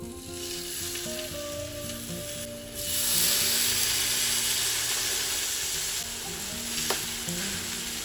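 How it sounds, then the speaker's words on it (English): Salmon fillets sizzle steadily in a pan over medium heat, a close, continuous frying hiss that swells louder partway through, with faint scraping and a soft tap. "On medium heat, let it roast for 4 minutes, then I'm gonna change the side"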